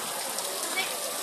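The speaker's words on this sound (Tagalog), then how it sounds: "Lakas ko ng ulan talaga dito." Heavy rain pours down in Maaville, Sucat, Parañaque as a dense, even hiss of rain with no breaks, heard close up over a short moment.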